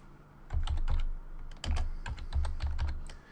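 Keystrokes on a computer keyboard while entering a command at a Windows 7 command prompt, arriving in short quick bursts with brief pauses between them, close and fairly quiet with no voices.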